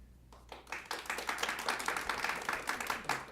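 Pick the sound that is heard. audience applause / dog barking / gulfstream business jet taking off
audience applause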